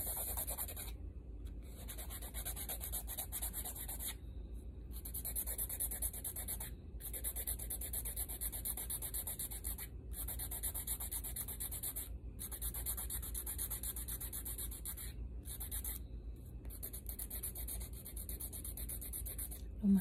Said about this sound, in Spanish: Lo más peludo es quitar el color con lima